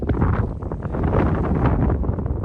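Strong wind buffets the microphone in heavy, continuous gusts on a cold, foggy mountain summit in the Presidential Range, a low roaring rush with no voices.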